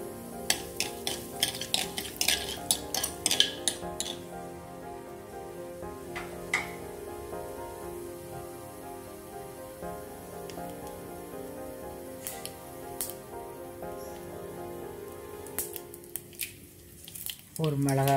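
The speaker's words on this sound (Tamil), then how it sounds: "நல்லா கடுகு பொரியட்டுன்னு" Mustard seeds splutter in hot oil for kollu rasam, with quiet, irregular sharp pops and crackles in bursts, and a faint clink of utensils near the end.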